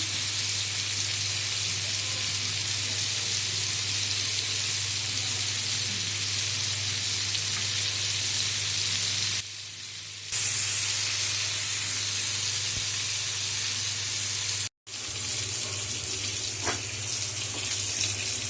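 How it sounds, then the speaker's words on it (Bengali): Prawns frying in a pan on a stove give off a constant, loud hissing sizzle, briefly dipping quieter about halfway through and cut by a short dropout near the end. "এখন আমি চুলা একটা প্যান বসিয়ে এখানে আমি মাছগুলো ভাজাতে দিয়ে দিলাম"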